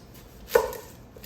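A knife makes a single crisp cut through an onion into a big slice and knocks against the cutting board. Quiet room tone comes before and after the cut.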